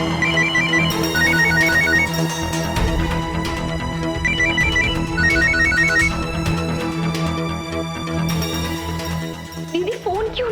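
A phone ringtone rings in repeated melodic bursts over a busy, steady background of music and noise, with a voice briefly near the end.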